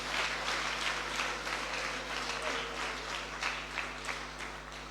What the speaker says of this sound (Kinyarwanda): Ndagira ngo mumfashe muntize amashyi tuyishimire.